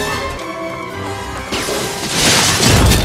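Glass smashing in a dinosaur attack scene from the 1993 film Jurassic Park: a loud crash and shattering burst builds in the second half, following music and rumble, playing loud and close.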